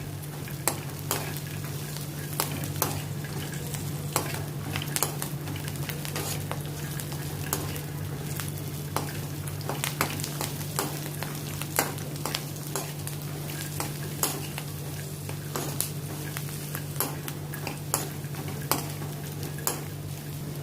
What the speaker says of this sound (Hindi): इनको भी अभी मैं रोस्ट करती हूँ आलमंड्स और पीनट्स के साथ